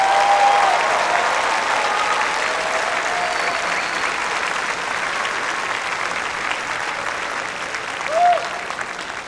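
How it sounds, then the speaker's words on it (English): Audience at an all-city orchestra concert applauding steadily and loudly for several seconds, a dense wash of clapping that slowly thins near the end. "Let's give them another round of applause."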